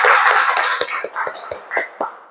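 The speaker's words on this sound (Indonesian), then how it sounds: "tepuk tangan untuk kita semua." A classroom of students claps hands in a series of sharp, distinct beats, roughly nine crisp claps in an uneven rhythm that gradually thins out.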